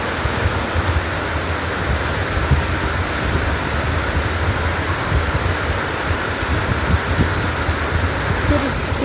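Steady rain falls on a rainy morning, a broad, even hiss of drops on surfaces that stays constant and fairly loud throughout with no voices.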